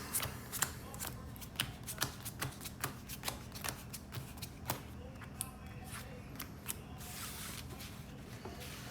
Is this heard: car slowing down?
no